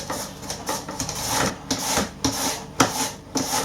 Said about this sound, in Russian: И капусту я натираю вот на такой терке.